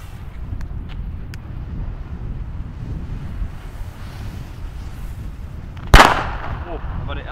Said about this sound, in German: Zwei Titanstark Blau schießen wir hintereinander.